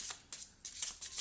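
Oracle cards of an angel-love deck are shuffled in a brief burst of quiet, close riffling flicks, four or five soft papery swishes in quick succession.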